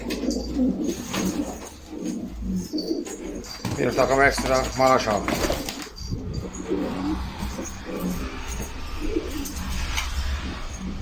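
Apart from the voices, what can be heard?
pigeons cooing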